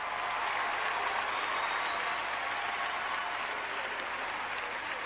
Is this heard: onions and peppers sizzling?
no